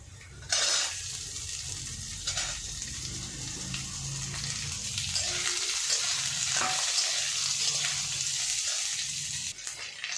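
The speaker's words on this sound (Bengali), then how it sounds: "দেখো এবার পেঁয়াজগুলো আছে এগুলো আমি ভেজে নেব" Onions frying in a pan, a steady close sizzle with occasional stirring scrapes and no talking.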